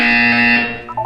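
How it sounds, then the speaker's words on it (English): An electronic buzzer from the video game Portal 2 sounds as a loud, steady tonal drone that cuts off, followed by a brief higher two-note beep, with no talking over it. "You will hear a buzzer."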